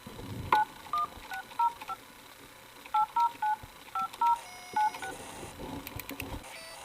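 Cell phone keypad dialing tones: about a dozen crisp beeps in quick clusters with short pauses between, near and clear against quiet room noise.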